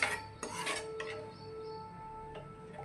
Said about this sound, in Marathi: प्युरी एका मी पॅनमध्ये घेतली आहे आणि गॅस चालू करून मंद आचेवर आपल्या ही प्युरी एक सात ते आठ मिनटं एकसारखं हलवं शिजून घ्यायची आहे